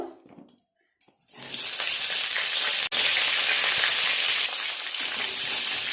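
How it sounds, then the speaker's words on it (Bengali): Cauliflower pieces drop into hot oil for navratan korma: a brief quiet moment, then a loud, sudden eruption of sizzling that settles into a dense, continuous frying roar. "সমস্ত সবজিগুলো এক এক করে ভেজে নেব। প্রথমে ফুলকপিগুলো দেব।"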